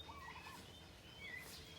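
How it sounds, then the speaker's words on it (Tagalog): Turkeys gobbling at a distance on a farm, a few warbling calls rising over a noisy outdoor background. "Dami mga pabo."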